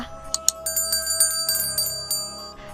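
Notification bell sound effect: a series of bright, ringing chime strikes with sustained metallic tones, repeated several times in quick succession, clean and alone with no voice.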